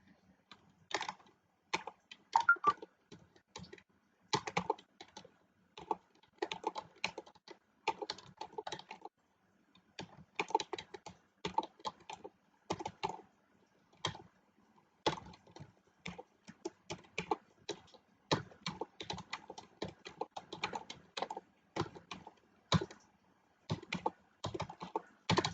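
Someone types numbers into a spreadsheet on a desktop computer keyboard, producing quiet, close key clicks. The clicks come in irregular bursts and short runs with brief pauses, continuing steadily for the whole stretch without any speech.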